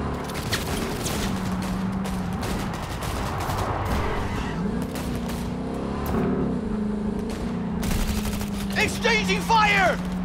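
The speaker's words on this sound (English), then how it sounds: "Exchanging fire!" Police gunfire in Cyberpunk 2077 crackles in repeated bursts against a steady vehicle engine drone, with game voices talking over the shootout.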